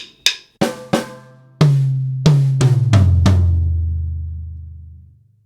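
A drum fill played around the toms, a handful of sharp hits descending in pitch, ringing out into a low boom that slowly fades.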